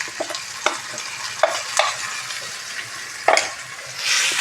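Coconut chutney is stirred into a hot tempering in a pan, giving a continuous sizzle with scraping spoon strokes and short clattering bursts against the pan, close and with no voices.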